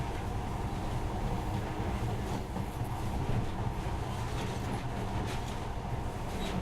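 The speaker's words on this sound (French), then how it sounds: "ce monorail a l'air magique, pas vrai?" A steady, droning rumble of a monorail gliding along in the video game Metro: Last Light, continuous and even throughout with no voices.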